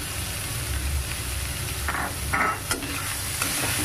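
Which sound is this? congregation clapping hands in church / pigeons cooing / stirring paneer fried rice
stirring paneer fried rice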